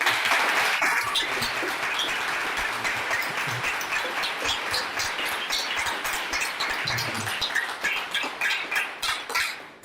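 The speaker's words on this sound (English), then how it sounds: "I love that you all are so generous, but you don't have to clap for me." Dense audience applause after a poetry reading: steady, many-handed clapping that carries on for several seconds, then thins to scattered claps as it dies away.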